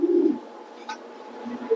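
A female pigeon gives a short, soft, low coo close by, then a fainter brief coo near the end, against quiet background.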